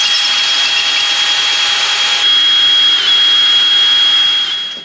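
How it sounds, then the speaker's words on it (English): A power drill drives into a piece of wood during work on a Roadtrek 190 camper van, a loud steady whine held for several seconds that shifts pitch midway as it bites, then trails off. "Keep the wood here like this, and then I'll be able to drill into it much easier."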